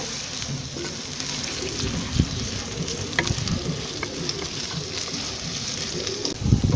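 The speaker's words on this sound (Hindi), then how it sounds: "अदरक लहसुन की भी अच्छी तरीके से भुनाई कर लेते हैं" Crushed ginger and garlic fry in hot oil for a chicken dish, giving a steady close sizzle with scattered stirring scrapes and small pops throughout.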